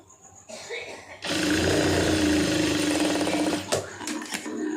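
Someone speaks briefly before a sewing machine starts stitching a folded blouse lining, running close and loud in a continuous rapid whir for a few seconds and then slowing to a halt.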